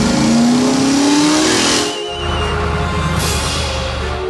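A cartoon yellow tow truck races away at full speed through a dense forest, its engine revving high with a rising whine and tire squeal before a sudden shift to a lower roaring drive.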